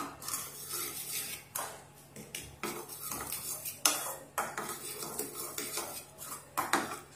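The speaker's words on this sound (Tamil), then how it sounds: "இத நல்லா மிக்ஸ் பண்ணி விட்டுறலாம்" Beans tossed with chilli powder and salt in a bowl, producing irregular clinks and scrapes of a spoon against the dish, close and moderately quiet, continuous rattling mixing throughout.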